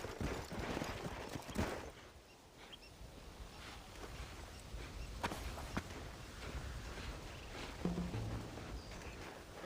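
Horses' hooves clip-clopping in the video game Red Dead Redemption, a steady walking rhythm of soft thuds under ambient game sound, moderately close and fairly quiet.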